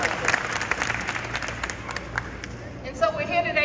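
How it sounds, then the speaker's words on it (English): A crowd at a 2024 reparations rally in Chicago breaks into clapping, with close, crackling applause and scattered cheers that rise and fall while a voice carries over the noise. "Yes, clap it up, because that's important."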